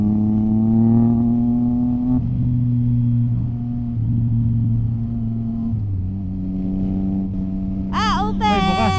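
A Triumph Trident motorcycle engine drones with a steady, tonal hum that steps down in pitch a few times, and brief high chirps rise near the end.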